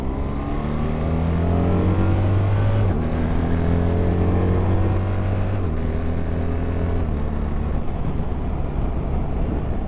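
A BMW GS1300 motorcycle carrying two riders accelerates hard, its close engine note climbing steadily with distinct gear shifts around every few seconds, loud and continuous with no talking.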